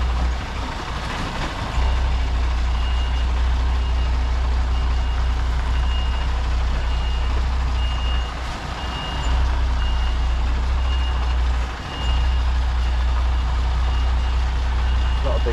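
A lorry with a trailer manoeuvres at a loading bay, its reversing beeper sounding in a steady repeating pattern over a loud, continuous low engine rumble, with brief dips as it shunts.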